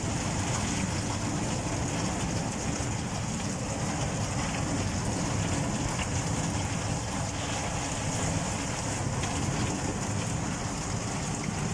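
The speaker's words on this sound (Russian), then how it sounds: "ну тут уже вообще льется бешеными каплями" Heavy thunderstorm rain in Komsomolsk-on-Amur pours down in a dense, steady roar of large drops, loud and unbroken throughout with no voices.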